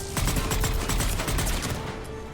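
Rapid bursts of automatic gunfire in the Mass Effect 3 video game, loud and dense, with overlapping shots throughout the combat.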